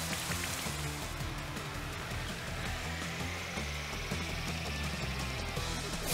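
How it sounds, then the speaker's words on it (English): Rain from the Rain Dance move in Pokemon Sword falls as a steady, faint wash of patter, with a low mechanical hum underneath throughout. "Here comes the rain!"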